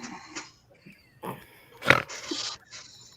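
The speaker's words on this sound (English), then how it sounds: "There's a snort." Short snorting noise from an animal, a couple of rough nasal bursts of moderate loudness with quieter breathy sounds around them, no talk over it.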